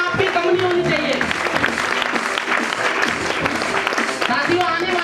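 An audience at a ChampCash seminar in Delhi stands and gives a warm welcome: loud, dense applause that keeps going for the whole stretch, with a few voices mixed in.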